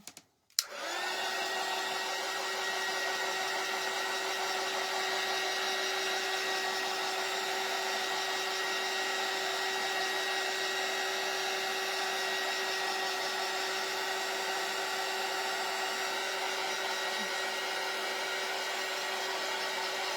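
Hair dryer blowing to quickly dry green paint on a craft shelf sitter piece, switched on with a click and then running as a loud, steady, unbroken whine for the whole stretch.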